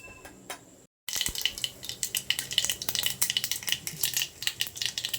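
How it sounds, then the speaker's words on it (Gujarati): Mustard seeds and cumin dropped into hot oil in a pan for vegetable khichdi, sizzling and popping in dense rapid crackles after a brief silence, with a few metal utensil clinks mixed in. "રાઈ નાખી દીધી, જીરું નાખ્યું"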